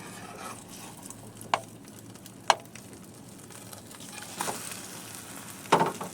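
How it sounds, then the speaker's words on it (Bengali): An egg fries in a pan as a low, steady sizzle, broken by a few sharp scrapes and taps while it is flipped. "এখন আমরা ডিমটাকে উল্টাই দেব"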